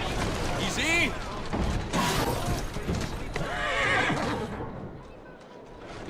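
Horse in the video game Assassin's Creed Syndicate gives loud whinnies with clattering hooves and game effects around it, and a person speaks in between the neighs.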